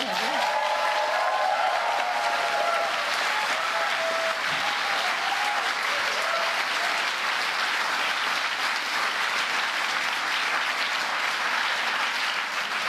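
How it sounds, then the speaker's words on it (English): Sustained applause from a large crowd at a business forum, greeting President Joe Biden, fills the space, steady and even throughout with no break. "Nice round of applause for Joe."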